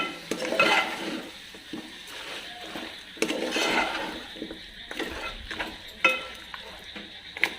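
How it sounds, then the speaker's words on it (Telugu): Onion paste frying for mutton curry and being stirred in a pot, soft scraping and sizzling strokes at close range with a few sharper clinks, fairly quiet. "ఉల్లిపాయ పేస్ట్ ఇలా వేపుకుంటే కూర కూడా కలర్గా ఉంటుందండి"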